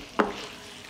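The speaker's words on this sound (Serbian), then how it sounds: "Džigericu pržimo na nižoj temperaturi jer hoćemo da ostane mekana" Chicken liver frying in a pan over lower heat: a quick clatter at the start, then a soft, steady sizzle close by, with no talking.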